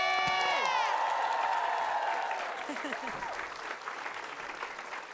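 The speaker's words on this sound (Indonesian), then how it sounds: "Kita kasih tepuk tangan buat Saiki" A studio comedy show audience applauds loudly, with cheering and whoops mixed into the clapping. A short vocal flourish rings out at the start, then the applause gradually tapers off.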